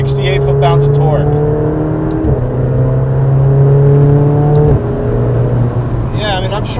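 A McLaren 720S Spider GT accelerating on a chilly day, its engine note climbing through short-shifted gears with a brief dip at each change, loud and close under intermittent talk from inside the car.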